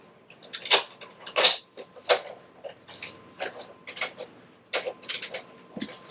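A screwdriver pries the plastic cover off a Jensen RV stereo head unit, giving a string of close creaks, clicks and scraping snaps in uneven bursts.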